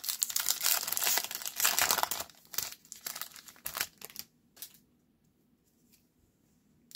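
A 2024 Topps Series 1 baseball trading card pack wrapper torn and crinkled open up close, a loud burst of foil crackling and ripping for about two seconds that fades into a few scattered rustles and then near silence.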